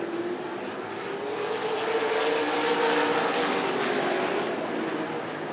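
Late model race cars at Rockford Speedway roar past in a steady loud engine drone that swells midway and fades slightly, with a crowd-like wash beneath.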